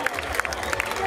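Brief applause from a pageant audience, a scattering of claps blending with crowd noise under a spoken voice.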